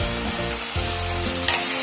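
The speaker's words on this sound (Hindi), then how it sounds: "मिला देंगे इसको" Chana chilli sizzling and frying in a pan while being stirred, a steady close crackle with scraping stir strokes and no talking.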